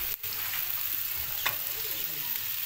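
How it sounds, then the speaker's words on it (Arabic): Chicken breast searing in a hot pan, a dense, steady sizzle with a brief stir or clatter near the start and another soft scrape midway, close and continuous. "خلي صدر الدجاج يتشحر مزيان"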